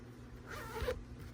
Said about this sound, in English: Nice zipper, clear front.